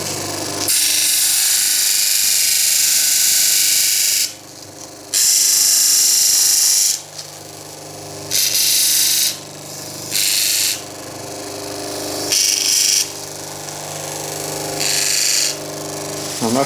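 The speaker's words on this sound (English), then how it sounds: "So I'll just trim that off on the disc sander, and then we'll put some fixing holes in that." A disc sander trims a part for an Art Deco clock build, starting with a loud whine and then going through repeated bursts as the workpiece is pressed against the disc and lifted off, all close and with no talking.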